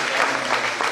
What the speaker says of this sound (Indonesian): Tepuk tangan buat kita dulu semua.